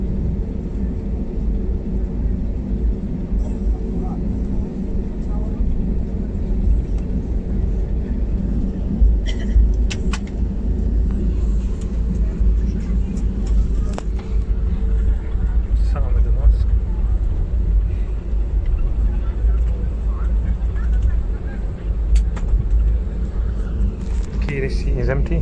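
Steady low cabin drone of an airliner in flight from Tenerife South to Manchester, a constant broadband rumble filling the whole stretch with faint rustles and clicks on top and no clear talk.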